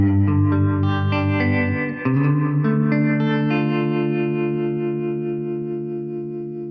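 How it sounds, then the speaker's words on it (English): Harmonic tremolo from the long setting of a True Spring Reverb unit colors sustained guitar chords with a pulsing, wobbling shimmer, one chord ringing out then a second chord fading slowly, with no talking. "In the center toggle switch position, labeled long, you will hear the harmonic tremolo."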